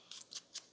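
Scissors trim paper ephemera for a scrapbook page in three quick, crisp snips, close and fairly quiet, with no talking.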